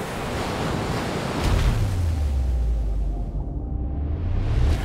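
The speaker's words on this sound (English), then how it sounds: "The whole orchestra, waves bursting." Sea waves bursting and washing on a Cyprus shore, a steady broad roar of surf with wind noise buffeting the microphone and a swelling low rumble through the middle, no voices.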